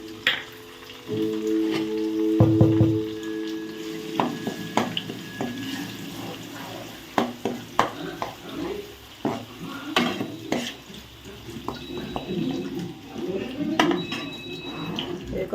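Masala for a homemade mutton curry fries in a pan while a spoon stirs it: steady sizzling under repeated scraping and clattering strokes, fairly close and moderately loud.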